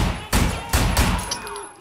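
Gunfire in the video game Sleeping Dogs: a few heavy, booming shots spaced irregularly, loud and close, each trailing into a noisy rumble.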